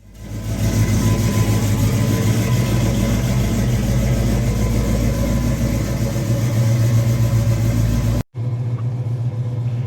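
A 1970 Ford Mustang Fastback engine turns over and settles into a loud, deep rumbling run that holds steady up close, with a brief cut near the end before the rumble resumes.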